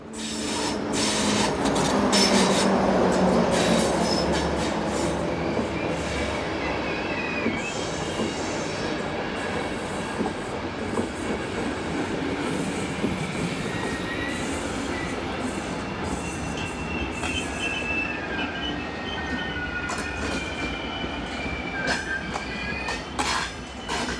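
A Class 363 electric passenger train on the Ljubljana to Vienna EC 150 service rolls in and slows, wheels grinding and squealing on the rails, loud and close, with steady rumble throughout.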